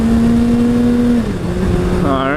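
A 2014 Suzuki Hayabusa GSX1300R motorcycle accelerating hard on a highway, its engine note climbing steadily, dipping at a gear change, then rising again loud and close, with rushing wind underneath.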